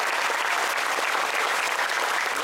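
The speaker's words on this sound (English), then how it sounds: "Please join me in a round of applause for these very special cast members." An Epcot audience applauds cast members at a 40th anniversary celebration, with dense, even clapping that stays steady and full throughout the short stretch.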